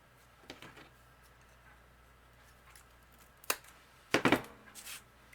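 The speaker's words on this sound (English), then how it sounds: "And I use my wire cutters. And I cut a couple" Wire cutters snap through wooden barbecue skewers in a few sharp, close clicks, one single cut followed by a quick double snap, set against a quiet room.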